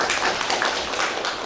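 An audience claps for a panel at a live-streamed conference session: scattered, light hand claps in a steady patter, moderately close, with no talking.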